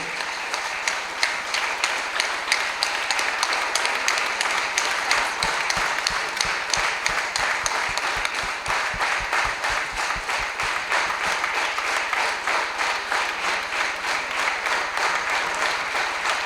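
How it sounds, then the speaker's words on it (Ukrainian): Long, sustained audience applause in a hall during a Ukrainian military-patriotic award ceremony honouring special forces. The applause is dense and steady, and partway through it briefly turns into rhythmic clapping in unison before spreading out again. "дякуємо вам, ваші оплески"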